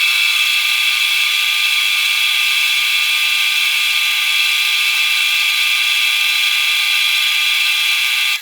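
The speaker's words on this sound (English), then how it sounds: "I'm going to take this back over to the drill press and buff it for a little bit." A steady, high-pitched mechanical whir drones on without pause as a drill press buffing wheel loaded with white rouge polishes a metal Mercedes-Benz grille emblem, loud and close throughout.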